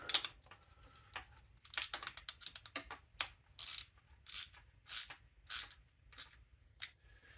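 A ratchet wrench tightening a bolt while a crank sensor is installed on a 4G63 engine: short bursts of rapid clicking in an uneven rhythm, close and fairly quiet over a low hum, with no talking.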